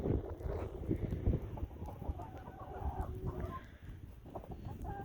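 Chickens cluck and murmur close by while walking about in the snow on a farm, a steady busy stream of soft fowl calls with no talking.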